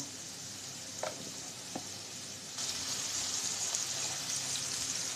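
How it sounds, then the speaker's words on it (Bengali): Potatoes and carrots fry in hot oil for a Bengali curry, giving a steady soft sizzle with a couple of light knocks early on, then a louder, denser hiss from the middle onward. No voices. "তেল গরম হয়ে গেছে দিয়ে দেবো আলু গাজর আলু গাজরগুলো একটু ভেজে নেব"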